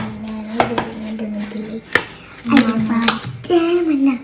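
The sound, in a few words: cutting a yellow watermelon with a knife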